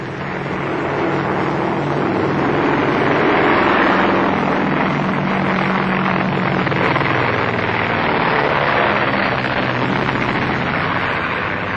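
A steady, loud propeller airplane engine drones throughout, a continuous broadband roar with low rumbling undertones and no voices.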